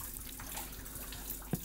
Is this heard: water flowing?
yes